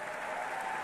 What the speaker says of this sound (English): I think that's worth another round of applause.